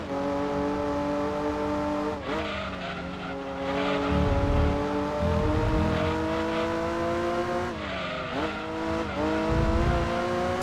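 A race car in the Gran Turismo 2 video game drones under a steady high-revving engine. The tone climbs and then dips at gear shifts around two and eight seconds. Tires scrub and squeal in bursts, with no talk over it.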